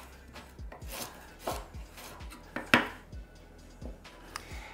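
Knife slicing through a quarter of a cabbage on a cutting board, a series of crisp, fairly close chops at an uneven rhythm, with one sharper, louder cut near the middle.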